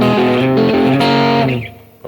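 A distorted electric guitar plays a short blues walk-up phrase, a few stepping notes, then fades out.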